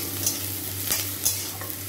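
Chopped garlic sizzles and fries steadily in a pan, a continuous close crackle broken by a few sharp stirring scrapes.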